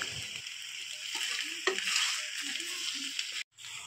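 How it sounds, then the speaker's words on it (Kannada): Chopped colocasia (arbi) pieces dry-frying in a pan, a steady close sizzle with faint scraping of stirring and a brief clatter toward the end. "5 ರಿಂದ 6 ನಿಮಿಷಗಳ ಕಾಲ ಈ ರೀತಿ ಚೆನ್ನಾಗಿ ಫ್ರೈ ಮಾಡಿಕೊಳ್ಳೋಣ"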